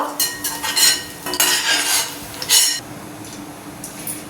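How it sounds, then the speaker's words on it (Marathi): Browned fried onions being scooped out of a pan while cooking veg biryani, heard as several close scraping, stirring strokes of a utensil against the pan with a light sizzle underneath, no talking. "ते आपला कांदा झाला ब्राऊन, काढून घेते मी आता।"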